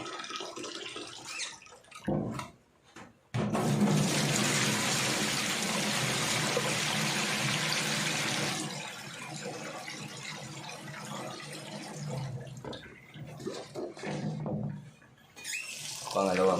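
Rice is being washed under a running kitchen tap, with a steady rush of water into a sink that stops and starts in bursts over several seconds while someone talks in between.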